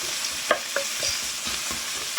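Onions sizzle steadily in a pan over low heat, a soft continuous frying hiss punctuated by a few light scraping stirs, close and moderately quiet with no voices.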